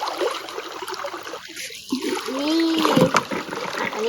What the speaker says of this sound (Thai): ตักให้มันเต็มถังอย่างนี้นะคะ มันหนักมากค่ ะ